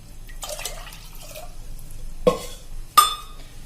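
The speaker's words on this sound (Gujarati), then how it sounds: "અને આ પાણી જે આપણે ચણા પલાળ્યા છે એ પાણી આપણે કાઢી નાખશું" Water splashes and drips as soaking water is poured off black chickpeas, with a couple of sharp splashy bursts near the end; no voices.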